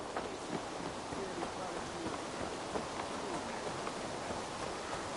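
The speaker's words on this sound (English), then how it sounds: "Just a bit rainy." Steady rainfall in Assassin's Creed Valhalla, a constant dense patter of drops on surfaces with a soft hiss throughout, moderately loud and even.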